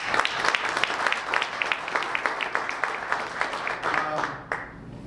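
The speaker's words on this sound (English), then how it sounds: "So big round of applause for you guys." A small audience at a Pennsauken community committee meeting applauds. The hand claps are sparse and rhythmic, moderately close, and last about four seconds before fading out.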